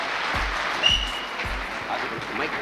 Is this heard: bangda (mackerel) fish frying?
no